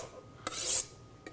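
A knife blade honed on a sharpening steel: a short metallic scrape, preceded and followed by brief light taps of the blade against the rod, close and clear.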